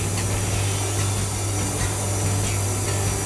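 Egg whites are beaten for meringue with an electric mixer in a home kitchen, a constant loud whirring motor hum with a steady low drone and no speech.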